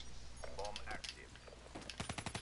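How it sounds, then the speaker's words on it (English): Shotgun blasts in a Call of Duty Black Ops 3 match crack out as a quick run of sharp shots near the end, with players talking over the game sounds beforehand. "You're using a shotgun,"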